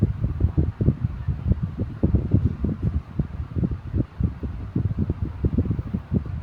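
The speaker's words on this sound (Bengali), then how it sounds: "ঢাকনা দিয়ে ঢেকে দেওয়ার পর ব্লেন্ড করে নেব।" A lidded blender churns watermelon juice for homemade watermelon sharbat, its motor roaring steadily with quick, regular pulsing thumps as the fruit chunks tumble, close and continuous with no talking.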